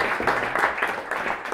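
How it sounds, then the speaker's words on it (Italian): Brief applause from an audience at an Italian food and storytelling event honours a guest, with a dense, even patter of clapping hands. "Un applauso anche ad Angelo Caposala del Garibaldi"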